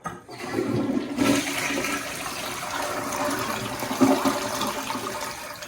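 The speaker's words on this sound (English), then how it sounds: "brand new toilet, elongated toilet here. Lots of flushing power" A brand-new elongated toilet flushes with strong power: a loud, close rush of water starts after a brief pause and churns steadily for several seconds, then trickles as the bowl refills.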